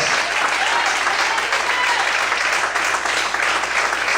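Church congregation at a Portuguese-language worship service applauding vigorously in a sustained, dense, even roar of clapping with scattered voices underneath.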